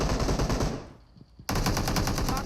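Automatic AK rifle fire in a video game rattles in rapid bursts, dies away briefly into near quiet, then resumes as a dense, loud stream of shots.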